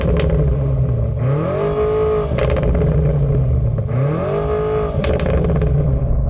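A BMW M5 plug-in hybrid engine revs hard twice, pitch sweeping up and falling back each time, loud and close with a throaty rumble.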